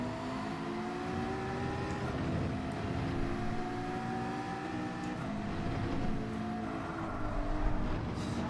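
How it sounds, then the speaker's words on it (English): A McLaren race car in the Gran Turismo 7 video game, its engine a sustained droning whine with rising and falling pitch as it runs in a slipstream during an online daily race, steady and continuous with no talk. "Difference to the speed of this McLaren though when it is in the slipstream."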